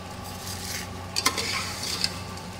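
Vermicelli (sawiyan) roasting dry in a pan gives a soft, even hiss, with a couple of brief scraping stirs against the metal standing out near the middle.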